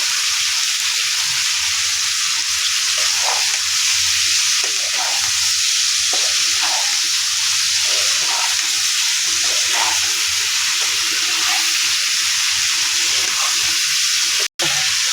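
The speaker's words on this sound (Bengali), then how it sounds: "এখন এটাকে ভালোভাবে কষিয়ে নিতে হবে।" A thick spice paste for a cauliflower fish curry fries with a steady loud sizzle and hiss, punctuated by repeated stirring scrapes, close up and continuous, without speech.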